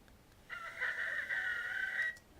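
A rooster crows once in a single long, steady call of about a second and a half, moderately loud and heard alone against a faint background hiss.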